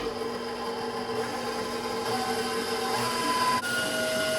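Egg whites for a Japanese roll being whisked, a steady mechanical whirr with faint rhythmic scraping, close and continuous without talk.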